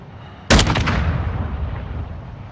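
Single loud gunshot in Call of Duty Modern Warfare 2 DMZ, a sharp close blast with a long reverberant tail fading over two seconds, no talk over it.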